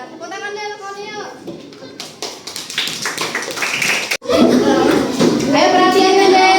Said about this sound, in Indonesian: Tepuk tangan deh, kawannya yuk.